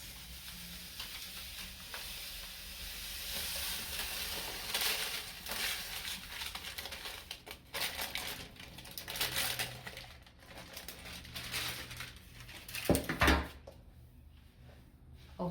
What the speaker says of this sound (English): I'll transfer back the sesame mix